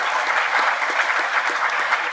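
Audience clapping steadily at a university job fair morning session, a dense, even wash of many hands close by with no gaps, running throughout.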